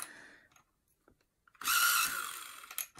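Coloured pencils being sharpened in a handheld sharpener: a close, loud grinding burst of about a second and a half, preceded by a few small faint clicks and handling taps.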